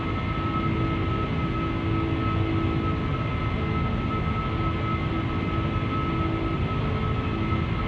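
In the flight game Flight Simulator X, a Boeing 747-400 rolls out after landing, a steady, loud rumbling roar of engines and wheels with a constant high whine running through it and no breaks.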